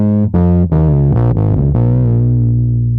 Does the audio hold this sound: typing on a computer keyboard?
no